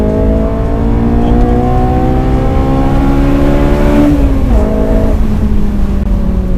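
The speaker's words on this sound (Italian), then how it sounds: "finalmente eccoci qua a tirare il collo a questo motore in zona 9000" A loud, close Honda S2000 engine revs steadily higher in pitch toward 9000 rpm, holding a strained high-rpm whine before dropping briefly and climbing again.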